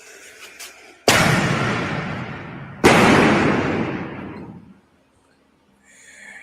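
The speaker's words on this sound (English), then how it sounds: "That's a fireworks malfunction. Everything went off at one time." A fireworks malfunction sets everything off at once: two huge close booms in quick succession, each followed by a long roaring, crackling rumble that fades into near silence.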